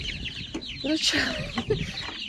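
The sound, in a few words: small chicks chirping and clucking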